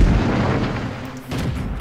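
Tank cannon firing in the World of Tanks video game, a heavy booming blast with a rumbling low-end tail, followed by a second surge of impact noise, loud and up close with no talk.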